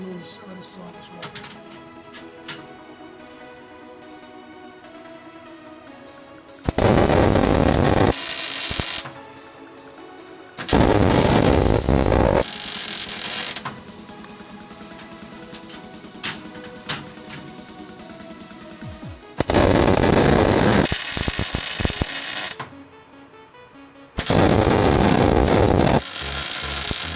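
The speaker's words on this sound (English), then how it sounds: "I'm going to make the weld here, here, and on this other side as well." Welding a V-plate onto an axle in a workshop gives loud crackling bursts lasting a few seconds each, alternating with quieter stretches of background hum.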